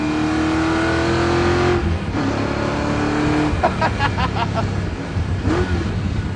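A loud, rickety Mazda RX-7 engine roars and revs up close, its droning pitch rising and falling, with a brief rattle and clatter midway.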